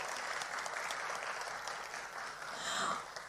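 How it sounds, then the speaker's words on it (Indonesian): Applause at a 14th-anniversary celebration for SRC: a continuous, fairly faint wash of many hands clapping, holding steady throughout. "Bapak Ibu bisa berikan tepuk tangan yang paling meriahnya sekali lagi untuk SRC"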